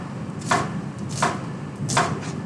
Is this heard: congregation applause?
no